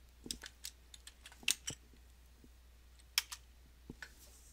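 Someone types an unzip command on a computer keyboard, producing sparse, quiet, irregular key clicks with short gaps between the taps.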